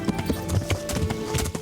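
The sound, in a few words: horse galloping, hooves clip-clopping, in the video game Kingdom Come Deliverance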